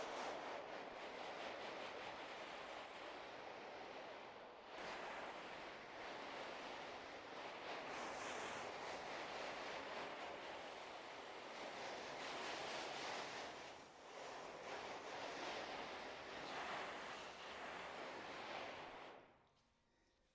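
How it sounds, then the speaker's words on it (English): Steady hissing spray from a shower sprayer wetting down a fabric-covered build, a continuous close rush of water with a few brief pauses before it cuts off at the end. "just wet the whole thing down with a spray"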